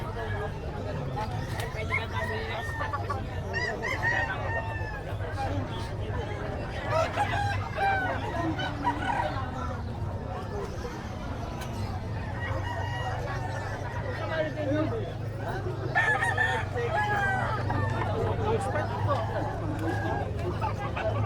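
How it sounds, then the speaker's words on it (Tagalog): Chickens and roosters at the Bocaue pet market cluck and crow continuously amid crowd babble, with people talking nearby throughout. "So, ito yung mga lugar ng mga manok."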